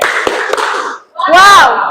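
Classroom group doing the 'tepuk wow' clapping chant: a few sharp claps, then children chanting together loudly in unison.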